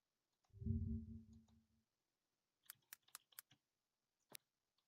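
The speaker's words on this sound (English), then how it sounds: "Yes, I'm typing." Keys on a computer keyboard tapped in a short burst of about eight quick, crisp clicks, following a brief low rumble, with silence in between.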